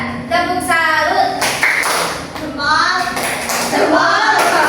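A group of elementary school children in an Indonesian classroom chants together in a rhythm, marked by several sharp hand claps.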